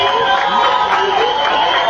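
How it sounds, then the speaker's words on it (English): Crowd at a Bobi Wine political rally in Nebbi District, Uganda, applauding and cheering in a dense, steady roar that fills the whole stretch without a break. "Please clap for yourselves, ladies and gentlemen."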